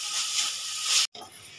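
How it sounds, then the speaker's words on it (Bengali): Chicken sautéed in a pan with roasted ground spice powder, a close, steady bright sizzle that cuts out briefly for a moment and then resumes more softly. "দিয়ে আমি ভালো করে চিকেনটা কষিয়ে নেব"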